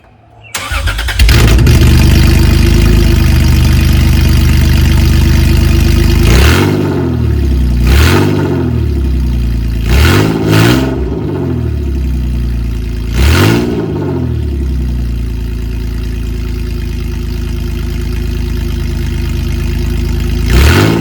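A 1997 Toyota 4Runner with straight-piped exhaust starts up and idles loudly and close, then blips through several sharp revs that rise and fall before settling back to a deep, rumbling idle.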